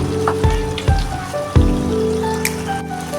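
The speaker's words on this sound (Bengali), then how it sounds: "আমি আরেকটা কড়াই বসিয়ে একটু বাগারের ব্যবস্থা করছি" Spice tempering fries in a second pan for a kala bhuna curry, giving a continuous close sizzle and crackle with several brief clinks of a spoon against the metal pan, and no voices.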